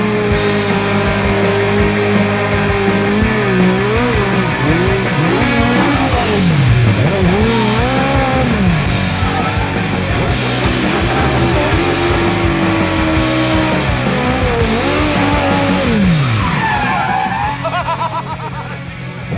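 Drift cars at a show scream through long tire squeals and revving engines, a loud, continuous roar with shifting pitch that barely lets up for the whole stretch.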